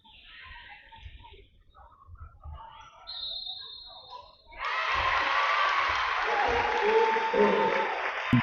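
A home crowd at a women's basketball game breaks into loud, sustained cheering and applause that swells suddenly and keeps roaring. A commentator talks over the quieter stretch before it.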